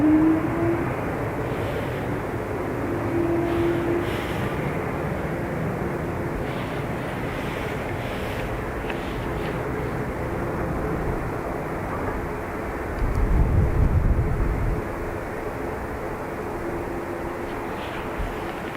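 A Swiss airliner takes off from runway 10 right at Dublin Airport, a loud, steady broadband jet roar that holds for the whole stretch and swells briefly near the end.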